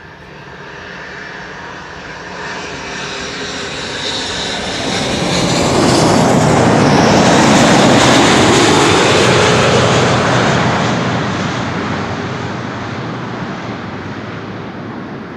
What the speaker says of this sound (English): the Delta I was spotting a few months back is turning final